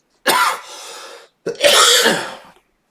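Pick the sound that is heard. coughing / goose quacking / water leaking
coughing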